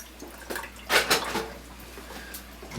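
Cold tap water runs into a plugged kitchen sink around a brew pot of Christmas ale, uneven splashing with clattering bumps that peak midway, close and moderately loud.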